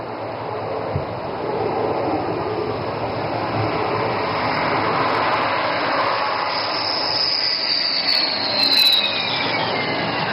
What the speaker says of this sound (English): And touchdown. This is where Rafale excels.